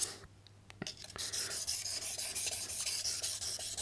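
A woodworking blade is honed on a 4000-grit sharpening stone. Quiet, close, steady rubbing strokes begin after a few faint taps and keep a smooth, even back-and-forth rhythm.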